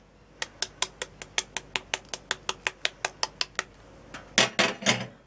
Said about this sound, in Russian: Берем яйцо, разбиваем ложкой.